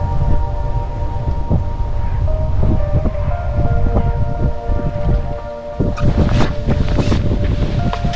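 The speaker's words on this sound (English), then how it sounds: "That wind's getting up as well, which might help produce some cover down this margin." Wind gusting across an open fishing lake during a November winter league match, a steady broadband rush with buffeting on the microphone, swelling louder toward the end, with some faint knocks underneath.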